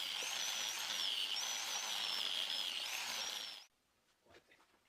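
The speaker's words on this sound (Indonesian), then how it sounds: "Proses penghalusan dengan amplas merah ini dilakukan pada bagian luar yang bisa dijangkau saja." Power grinder fitted with a red sanding disc smoothing a metal surface during a restoration, a steady high whine for several seconds that stops abruptly, leaving faint handling noises.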